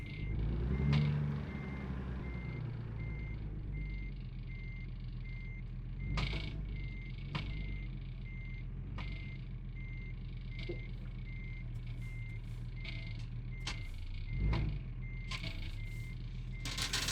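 Heavy truck in American Truck Simulator backing up, a steady electronic reversing beep over a low engine rumble, with a few sharper clanks and hisses scattered through the sustained drone.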